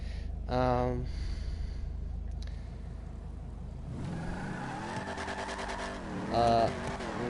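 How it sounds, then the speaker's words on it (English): Muscle car engine in a racing video game, revving up in sharp rising bursts and then whirring through shifting pitches as it accelerates, with talking under the engine sound. "Love how this car sounds."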